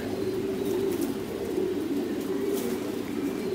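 Pigeons coo continuously at a pigeon breeding farm, a steady layered murmur of many birds close by with no talk over it.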